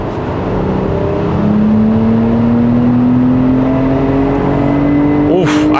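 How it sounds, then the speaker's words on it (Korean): A 2024 Porsche Cayenne engine with a large-bore dual straight-pipe exhaust, driven in Sport Plus mode, revs up in a steady rising drone, loud and close from inside the car, with no one speaking. "엔진의 회전 질감이나 뒤쪽에 배기음 들어보시고요"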